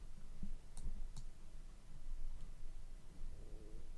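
A computer mouse gives two sharp, quick clicks close together, quiet against faint room noise, followed by a softer click later.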